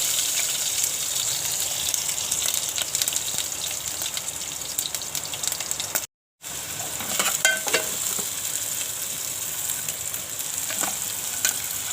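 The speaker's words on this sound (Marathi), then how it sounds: "फोडणी घालून घेते राई जिऱ्याची," A tempering of mustard seeds, cumin and garlic sizzles in hot oil, a steady close frying hiss with scattered crackles and one brief silent gap partway through.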